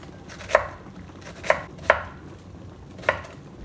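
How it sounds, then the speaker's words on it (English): A knife cuts through red onion and English cucumber on a board in four crisp, separate strokes, close and clear, with quiet pauses between them and no talking. "I'm going to slice these into little half-moon shapes"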